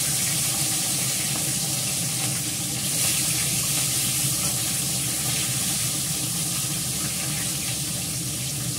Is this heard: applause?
no